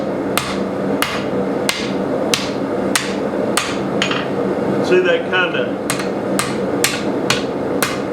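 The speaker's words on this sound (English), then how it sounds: "we want to make sure that we're hammering it the same way every time." Sharp metallic hammer strikes ring out at a steady, even pace, about one per half second, close and loud, as a blacksmith dishes metal for a hand-forged pot rack, with a voice speaking briefly between blows.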